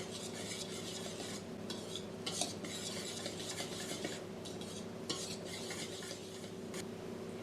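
A whisk stirs flour, salt and baking powder together in a bowl, giving a soft, continuous scraping swish with occasional light clinks against the bowl, fairly quiet throughout.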